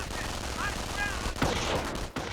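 Machine gun team firing in the Company of Heroes video game, a dense run of gunfire with sharp bursts over game noise and a brief dropout near the end.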